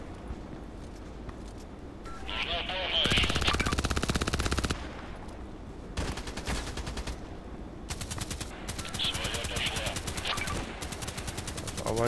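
Automatic gunfire in the shooter game Contract Wars comes in long, dense bursts of rapid shots, close and loud, broken by short pauses and quieter stretches of background game noise.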